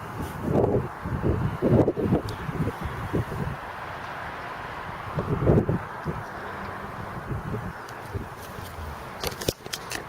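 Gusty wind at a lakeside on a windy day, buffeting the microphone in low rumbling bursts that come and go, with steadier rustling hiss between gusts and occasional faint crackles.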